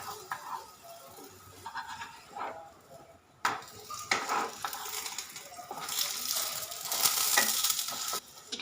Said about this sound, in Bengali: আপনাদের দেখাবো বলে যে কত কম তেলে ভাজা হচ্ছে।